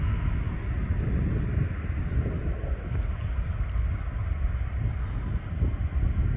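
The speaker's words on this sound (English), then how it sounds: "Here's one arriving. Airbus A380 Emirates." Four-engine Emirates Airbus A380 arriving to land at Manchester Airport in wet, cloudy weather, a broad low roar heard from a distance with wind buffeting the microphone throughout.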